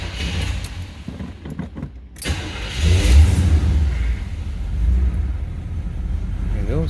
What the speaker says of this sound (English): There it goes, idling nice at about 600 or 700 RPM.